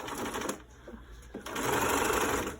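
A sewing machine stitches down the center of a fabric face mask, its motor whirring in two bursts separated by a short pause, the second run louder and longer, close by with no talk.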